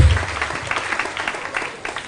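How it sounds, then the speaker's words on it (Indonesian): An audience at a national dialogue event claps for two professors, sustained applause from a crowd filling the room at moderate volume with no talking over it. "mari kita tepuk tangan meriah buat kedua profesor kita yang luar biasa"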